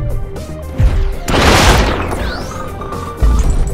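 Weapon fire in the VR shooter Sairento VR: heavy booming shots and a dense crashing burst ring out loudly, with no talk over them.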